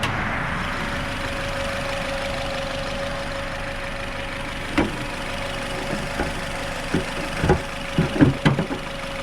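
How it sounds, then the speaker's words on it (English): A 2008 Nissan Rogue engine idles steadily at low volume, with uneven knocks and stumbles growing more frequent toward the end, a rough, slightly misfiring running. "you could definitely tell it's misfiring a little bit."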